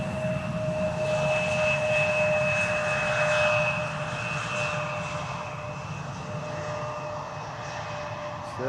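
Lufthansa Boeing 787 Dreamliner passing overhead near Schiphol's Polderbaan runway, a steady, fairly distant jet roar with a faint whine that swells slightly and then eases as it goes by.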